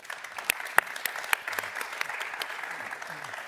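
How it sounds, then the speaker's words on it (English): An audience at a forum applauds to welcome panel speakers, a steady patter of many hands clapping at moderate distance, sustained throughout without a clear peak. "Please make them welcome with a round of applause."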